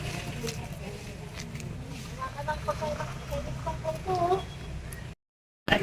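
Chickens and ducks feed in a yard in Lubao, Pampanga, with close clucking and scattered squawks while people talk over them, before a short silence and a brief return of sound.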